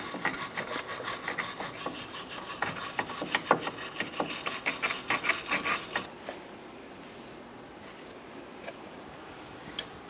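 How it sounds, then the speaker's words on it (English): Abrasive scrubbing on the rusty shock mount surface of a 2004-2009 Mazda 3 makes a rapid back-and-forth rasping, loud and close for about six seconds before it stops and leaves quiet room noise. "I'm going to clean my surface so it's easier to install. If you have rust, I recommend doing this."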